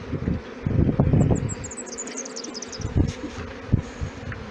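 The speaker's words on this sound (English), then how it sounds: "it's a good size swarm, this" A good-sized swarm of honey bees buzzing outdoors, a continuous dense hum with individual bees droning close past, alongside some rustling and knocks.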